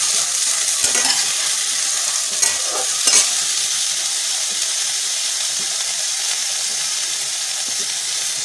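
Ridge gourd and bitter gourd sautéing in a pan with salt and turmeric, a steady loud sizzle and hiss throughout with a few brief stirring scrapes near the start.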